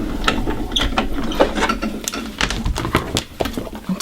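A hand-cranked die-cutting and embossing machine feeds cardstock through a pop-up circle die, giving close, uneven ratcheting clicks and gear rattles with small taps throughout.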